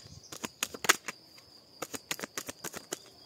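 Tarot cards are shuffled by hand up close: a quick flurry of crisp flicks and snaps, a short pause, then another rapid run.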